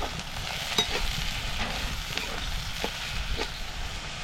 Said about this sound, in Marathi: आणि हे मसाले असे चांगले परतून घ्यायचे.